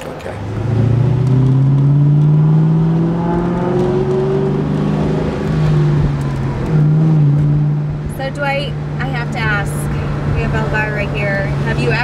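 A 2004 Ford Mustang Mach 1 V8 pulls away, its engine rising in pitch through a couple of gear changes, then settling to a steady drone as people talk inside the car near the end.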